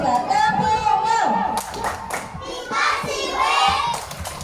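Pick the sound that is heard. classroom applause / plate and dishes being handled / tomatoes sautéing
classroom applause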